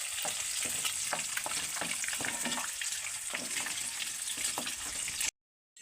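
Eggs frying in oil in a home kitchen pan until the edges turn light brown, a steady close hiss with scattered crackles and spatter pops, cutting to silence near the end.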